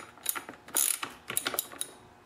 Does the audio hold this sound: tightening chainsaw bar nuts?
yes